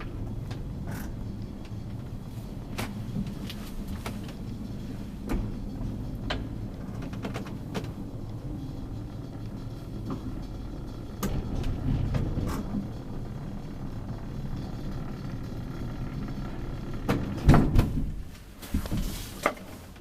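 A 1941 Kone elevator, modernised in the 1960s, rides quietly with a low steady hum and rumble, soft clicks and knocks along the way and a louder mechanical clunk near the end.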